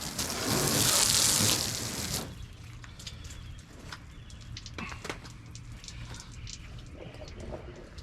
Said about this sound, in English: Let's put a little water on this hood.